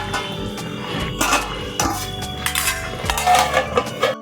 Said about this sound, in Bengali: ঢাকনাটা খুলে আমি দেখে নিচ্ছি।